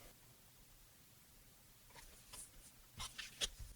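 A number 3 Micron pen drawing inked lines on paper, faint scratchy strokes near the end, quiet and close against soft background hiss.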